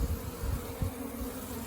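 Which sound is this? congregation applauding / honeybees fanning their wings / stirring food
honeybees fanning their wings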